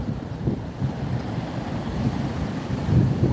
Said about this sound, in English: It is a bit windy, yeah. Is it affecting the sound?